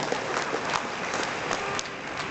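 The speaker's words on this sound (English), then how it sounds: "I think we deserve a little bit round of applause" Crowd applauding at the official opening of a shopping centre in Petaling Jaya, a continuous muffled wash of clapping at moderate distance, even and unbroken throughout.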